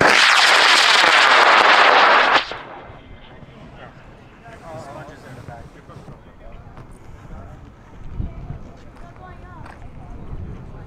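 A high-power rocket on an H-100 motor lifts off from a launch pad at a national sport launch in Alamosa, a loud roaring rush for about two seconds that cuts off abruptly, followed by quieter crowd voices and outdoor sounds.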